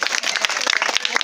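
Brisk clapping from a small audience at a magic show, close and lively, with uneven hand claps crowding together over a short burst.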